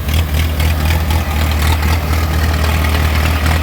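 A mini harvester's engine runs steadily while cutting a mustard crop field, a loud, continuous low rumble heard up close.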